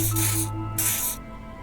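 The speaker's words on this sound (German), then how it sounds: "Er benetzt sich mit einer seltsam riechenden Flüssigkeit aus der Sprühdose." Two short bursts from an aerosol spray can spraying pheromone liquid in the game Disco Elysium, each a loud, close hiss lasting about half a second, over a steady low hum.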